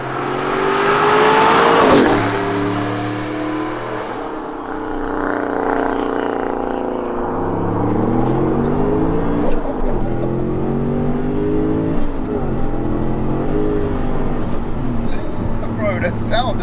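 A rear-mounted turbocharged 730 bhp V8 in an Audi RS4 roars and revs hard through rising gear pulls, loud and close, with voices talking over it.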